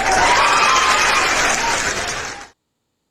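Loud audience applause, a dense wash of clapping from a crowd that carries on steadily for about two and a half seconds, then cuts off abruptly into silence.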